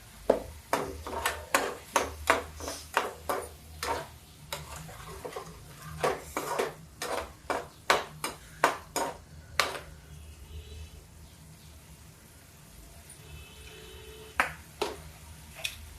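A spoon clanks and scrapes against an iron kadhai as peas are stirred, in a quick run of sharp metallic knocks that thins out into a few scattered taps over a quiet background.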